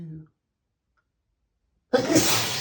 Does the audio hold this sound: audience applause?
no